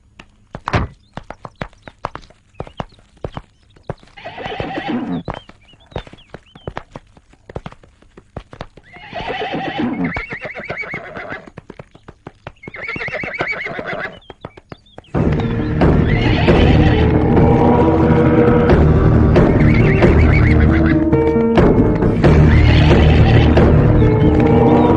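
A horse clip-clops at a walk, then whinnies in three loud, drawn-out neighs between the hoofbeats before a dramatic film score swells in, all from a Hindi-dubbed adventure movie.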